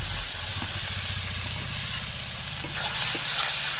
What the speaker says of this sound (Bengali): দিয়ে দেবো আদা রসুনের পেস্টটা,